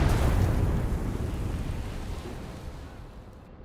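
Mortar round bursting in the WWII game Gates of Hell: Ostfront, one loud, heavy rumbling blast that slowly fades away over a few seconds, with no voices.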